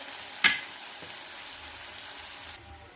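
Sprouted moth beans fry with spices in a pan, a close, steady sizzle with a sharp scrape or clink near the start, then the sizzle drops suddenly to a quieter hiss.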